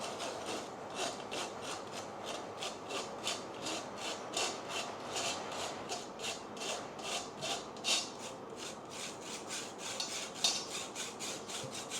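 A sieve of ragi flour being sifted gets tapped over and over, giving a steady stream of quick, light rattling taps that runs without pause throughout, close by and moderately soft.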